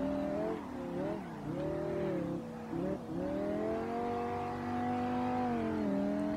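A BMW M5 E60 engine in a racing video game on a mountain road, a loud, continuous high revving drone with quick pitch dips at shifts around one and three seconds, then a sustained climbing tone.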